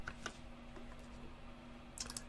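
Typing on a computer keyboard, short clusters of light keystrokes at the start and end with a quiet pause between, close and soft over a faint steady hum.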